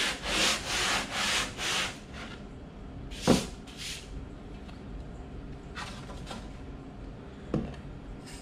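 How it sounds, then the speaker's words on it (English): Rhythmic sanding strokes rasp across a wooden guitar top, several quick passes at first, then sparser scrapes with small knocks, close and moderately loud. "I'm letting it do the sanding to the work."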